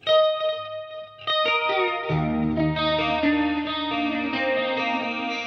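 A Wolfgang EVH electric guitar in candy apple red, played on its middle pickup through a Line 6 Helix, rings out chords and sustained notes with effects, loud and close with no talk.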